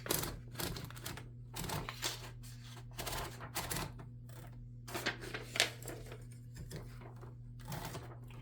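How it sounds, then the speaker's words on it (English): Mechanical clicks and clunks from a 1940s Smith Corona Sterling typewriter as paper is loaded and the left page guide is adjusted, irregular close taps over a steady low hum. "When you're loading paper, you adjust the left side page guide."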